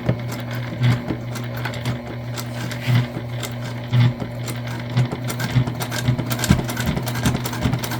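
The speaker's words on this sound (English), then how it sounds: "Just make sure you do a good back stitch here." A sewing machine stitches the seam of a bucket bag in a steady mechanical whir, broken by short louder bursts and brief pauses as the stitching runs and backstitches.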